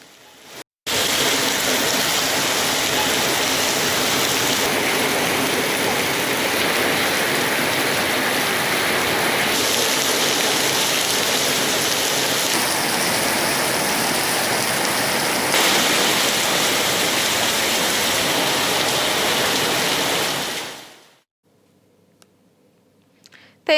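Heavy rain pours down with rainwater rushing along flooded roads, a dense, steady roar that continues for about twenty seconds before cutting off abruptly.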